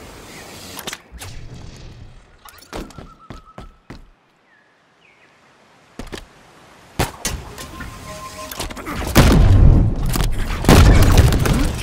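Halo Infinite multiplayer combat: scattered sharp weapon shots and cracks, some isolated, then a denser louder volley near the end, with whooshing effects and a brief gap of near silence in the middle.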